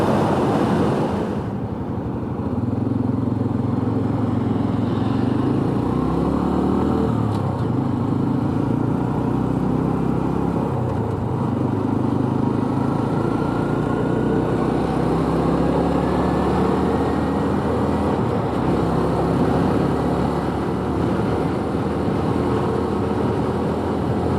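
A 2021 Honda Trail 125 (CT125) motorcycle engine runs steadily while riding, a continuous close drone with shifting pitch as gears change, mixed with constant wind rush and no voices.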